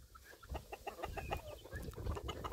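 A tame backyard hen clucks in a quick series of soft, close calls over low background rumble, with no talking.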